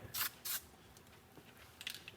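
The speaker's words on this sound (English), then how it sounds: "That's why I always do a test spray to make sure the color actually gets shaken up really well." Two short, sharp bursts from an aerosol spray can of paint, a test spray near a wrecked AMG GT under rebuild, followed by faint clicks and rattles.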